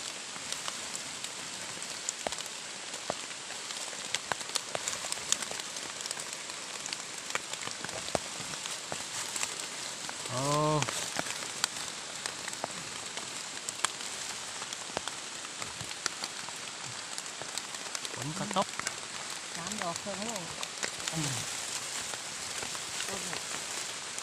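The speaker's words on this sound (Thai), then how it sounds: "ฝนกระตกลงมาแล้ว" Steady rain patters on surfaces outdoors, a constant close hiss of drops throughout, with brief bits of faint talking in the middle and toward the end.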